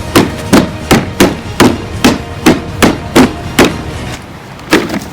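A hammer beats repeatedly on a bucket treated with Flex Seal, about a dozen sharp, loud, close whacks in an uneven rhythm with brief pauses, no talking.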